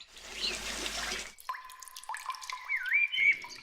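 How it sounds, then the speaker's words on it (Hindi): Water poured onto a small clay house, opening with a splashy pour followed by a few clear, close drips and trickles in an otherwise quiet setting. "कालू अपना मिट्टी का घर ठंडा रखने के लिए झरने से पानी लाकर उस पर डाल रहा था।"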